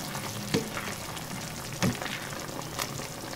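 Ground beef fries for one-pot chow fan, a quiet steady sizzle broken by a few stirring scrapes, with no talking.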